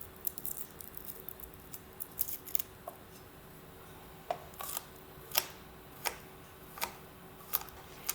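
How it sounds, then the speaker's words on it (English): A kitchen knife smashes and chops a fresh garlic clove on a cutting board, giving sharp, separate clicks and taps at an irregular then steadier pace, close but fairly quiet, without talk. "If you smush the garlic clove with your knife, it makes it a little bit easier to peel and then cut."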